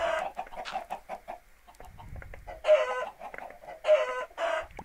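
Chickens in Minecraft cluck in repeated bursts, a quick run of clucks followed by louder clustered calls, close by and with no talk over them.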